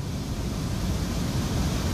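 Fast-flowing monsoon floodwater rushing down a mountain road in Pithoragarh, where a vehicle is stuck mid-stream, heard as a dense, continuous, loud roar of broadband water noise with no voices.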